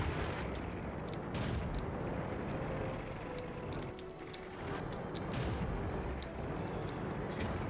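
Tank cannon fire in the World of Tanks game, a few heavy booming shots over a constant loud rumble of engine and battle noise.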